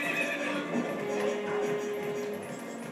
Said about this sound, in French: Le cheval est là, il est tranquille.